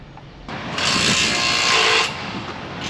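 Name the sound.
hammer drill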